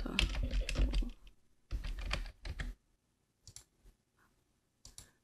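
Quick bursts of typing on a computer keyboard: a dense run of clicks, a pause, two shorter runs, then a few scattered keystrokes near the microphone. No one talks.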